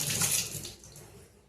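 Running water from a tap rinses cauliflower in a kitchen, a brief splashing flow that starts loud and fades away within a second or two.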